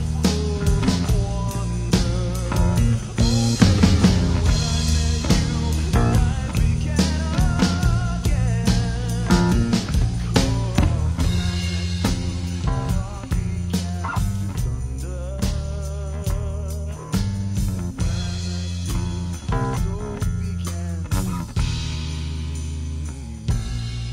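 Bass guitar locked with a kick drum in a song mix, a dense low-end groove of steady thumping beats and sustained bass notes running continuously for the whole stretch, loud and upfront with no talking.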